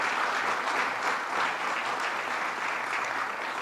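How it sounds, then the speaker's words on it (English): A large audience at the grand opening of the National Comedy Center in Jamestown claps steadily, a dense, even wash of applause held at the same loudness throughout, with no voices over it. "Let's give him a round of applause."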